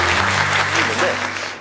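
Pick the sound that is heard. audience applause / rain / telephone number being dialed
audience applause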